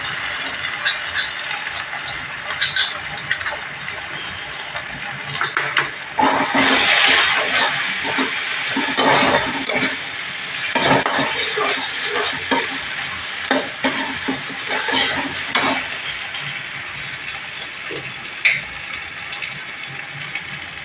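Ingredients for mutton biryani, including poppy seed and cashew paste, fry in a pan: a steady sizzle is broken by irregular scraping stirs and clatter, with louder bursts through the middle.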